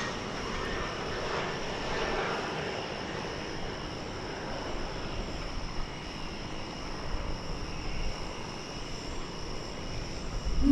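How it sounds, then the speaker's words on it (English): Cessna Super Cargomaster at DFW Airport, a steady droning engine roar of moderate loudness that builds slightly at the end, with no voices. "This is a Cessna Super Cargo Master going to Tyler,"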